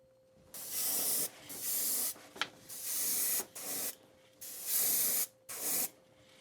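Aerosol can of Wicked Paints aluminum silver sprayed in repeated short bursts as a base coat onto a balsa wood fishing lure, seven or so hissing blasts separated by brief pauses, close and fairly steady.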